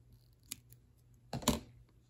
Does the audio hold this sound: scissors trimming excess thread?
yes